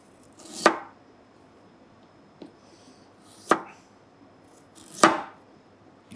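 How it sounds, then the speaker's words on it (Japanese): A knife chops unpeeled ginger into julienne strips on a cutting board, giving three sharp, close knocks spaced a few seconds apart with quiet pauses between them and no talking. "生姜をジュリエンヌっていうんですけど、"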